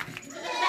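A goat bleating close by, one short wavering cry rising in loudness, with no talk over it.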